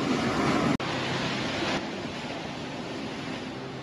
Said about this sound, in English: as you can see, and probably hear, we are right here on the ocean